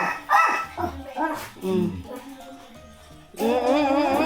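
A dog gives a few yips and short barks mixed with whimpering, close by, while people talk over it.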